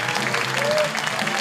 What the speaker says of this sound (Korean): 다시 한번 힘찬 함성과 박수, 여러분들의 따뜻한 격려가 필요합니다